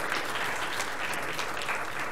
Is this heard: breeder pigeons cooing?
no